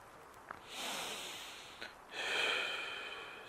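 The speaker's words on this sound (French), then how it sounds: "Cette respiration va être très calme." Calm, regular breathing during yoga self-hypnosis, two slow, soft airy exhalations close to the ear in a quiet room.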